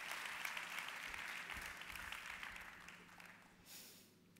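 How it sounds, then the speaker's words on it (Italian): Audience applause at a United Nations SDG Action Awards ceremony, sustained dense clapping from a large room that gradually thins and fades over a few seconds. "Continuate, continuate ad applaudire."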